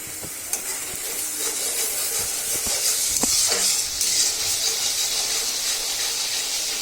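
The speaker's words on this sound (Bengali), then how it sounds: "মশলাটা কষানো হয়ে গেছে।" Spice paste for a meat curry, seasoned with chili powder and salt, sizzles steadily in a hot pan while being stirred, with a continuous hiss and occasional scraping clicks throughout, no voices.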